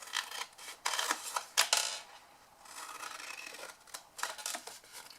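Scissors or a blade cutting a square panel out of card for a luxury triangle box, a few close crisp snips and scraping cuts in short bursts with brief pauses, quiet, no voices.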